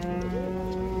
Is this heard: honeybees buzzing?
no